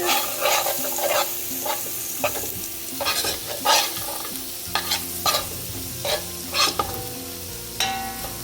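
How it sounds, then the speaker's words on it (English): Anchar masala spices sizzle and crackle in a pan on low heat, with a utensil stirring and scraping intermittently; close and steady, no voices. "I'll just be frying this up actually on low heat until the mango is ready"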